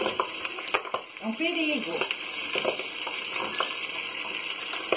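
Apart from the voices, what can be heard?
beans boiling and spattering in a pot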